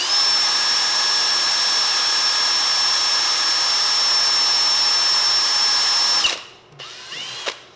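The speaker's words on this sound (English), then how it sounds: "you can angle your drill bit a tiny, tiny bit" A power drill whines steadily and loudly for about six seconds while drilling a hole for a ramrod pipe fitting, then stops abruptly, followed by a couple of short bursts.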